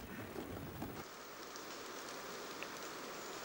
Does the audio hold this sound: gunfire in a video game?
no